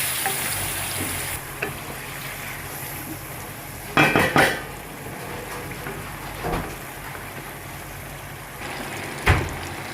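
Masala with boiled potatoes and eggs sautés in a pot, a steady soft sizzle under occasional sharp clanks and scrapes of a spoon against the metal, close up and without talk.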